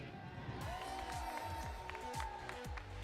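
Audience cheering for the Red Alliance team at a robotics league tournament, with a moderate crowd roar, whoops and scattered claps, and a rhythmic low thumping underneath.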